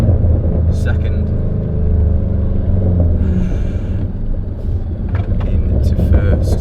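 A 2011 Ford Shelby GT500 engine rumbles loudly from inside the car as it drops through the gears, its deep growl rising and falling with each change. Someone talks over the engine.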